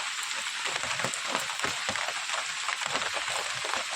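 Rain falling steadily during rainy weather, a dense even patter of drops on surfaces, moderately loud and continuous with no voices.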